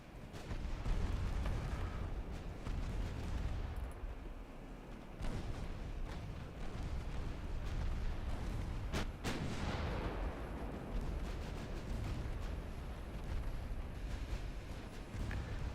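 Naval ship guns in the game Ultimate Admiral Dreadnoughts, dense rolling booms of artillery fire layered into a continuous rumbling barrage at moderate distance, with a few sharper cracks standing out.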